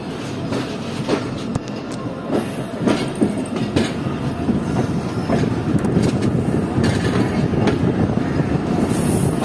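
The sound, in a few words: train at Radhan railway station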